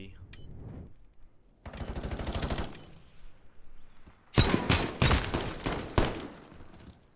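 Shotgun fire at close range in a competitive video game match: sharp, loud blasts in a quick cluster near the end, preceded by buzzing rapid gunfire and softer background game noise, with a caster talking over it.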